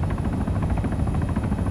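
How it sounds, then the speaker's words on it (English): Large transport helicopter with attack capability in the video game ARMA 3, its rotor beating in a steady, rapid rhythm, loud and close, with no talking. "It's a large transport helicopter that has attack capability"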